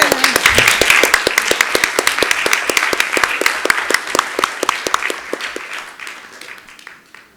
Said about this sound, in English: let's applaud them first